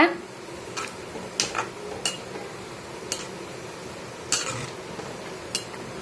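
Wheat rava being stirred into boiling water in a cooking pot for upma, with intermittent sharp clinks of a spoon against the metal pot over a quiet background hiss.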